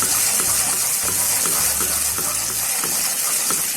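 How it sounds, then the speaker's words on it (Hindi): Spiced masala frying with two tablespoons of yogurt for Lahori chikar cholay, a steady loud sizzle with watery bubbling and faint stirring throughout. "अब हम इसमें दही डाल देंगे 2 टेबलस्पून और मसाले को अच्छी तरह भूनना है"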